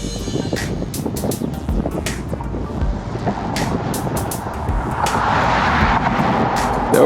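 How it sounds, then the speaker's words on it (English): A car or truck engine passes a cyclist on a cold winter road ride, a steady broadband rumble with rushing wind that swells louder toward the end. "The noise from the engine."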